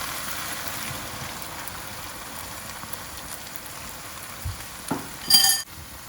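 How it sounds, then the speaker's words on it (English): Sauce sizzling in a hot pan with Gong Bao fried chicken, a steady broadband frying hiss throughout that swells into a louder burst near the end, with no voices. "just add our lovely sauce and let it sizzle"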